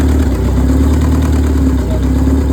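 A car engine with a Haltech ECU idles loudly and up close, a steady low rumble with a faint rhythmic pulse and no voices.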